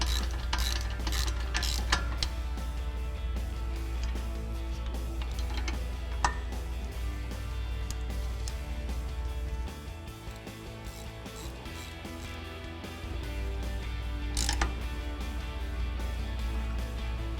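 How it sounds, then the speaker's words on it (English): Ratchet with a 13mm socket tightening brake caliper bolts on a 2014-2018 Silverado or Sierra 1500 during a PowerStop Z36 brake kit install, a steady run of fine mechanical clicking close by, without talk. "Now we go ahead and tighten down our bolts using our 13mm socket"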